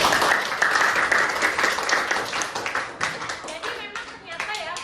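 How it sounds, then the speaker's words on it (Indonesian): A classroom of students claps for a classmate who has just finished speaking. The clapping is dense and continuous and fades slightly toward the end. "Kasih tepuk tangan buat Alicia."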